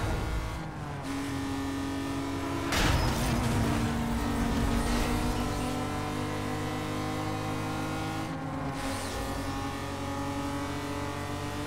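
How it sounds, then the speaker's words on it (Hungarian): A car engine in Need for Speed Most Wanted, running under a chaos mod, drones continuously with shifting pitch, broken by a sudden loud burst of crashing or scraping noise early on and a brief dip in the sound near the end. "A rohadt menő ez a kis autó."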